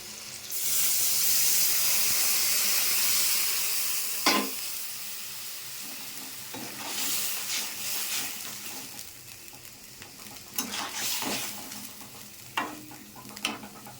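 Milk poured into a pan of frying vegetables and spices sets off a loud burst of hissing steam, followed by quieter sizzling and repeated scraping stirs, close by.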